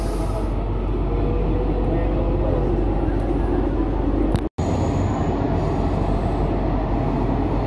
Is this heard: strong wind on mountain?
no